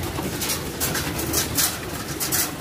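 Racing pigeons returning to their loft produce a steady close flurry of fluttering wings and soft cooing, a dense continuous texture with no talk over it.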